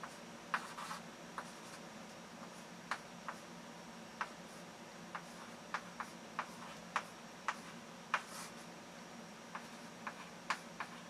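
Pen or marker writing out an augmented matrix, producing quiet, close scratchy strokes and taps in an irregular rhythm against a faint steady hum.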